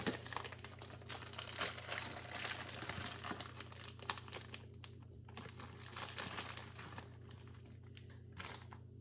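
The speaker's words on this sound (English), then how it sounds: "I used my my shears to cut down the side and put it in." Plastic packaging of lean ground beef crinkles and rustles steadily as it is cut down the side with kitchen shears and emptied, a close, continuous crinkling with scattered small crunches.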